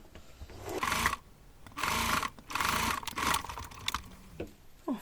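A domestic sewing machine stitches fabric for a children's mouse-shaped bag in loud rapid whirring bursts, three long runs separated by short pauses, with small mechanical clicks and handling noises between.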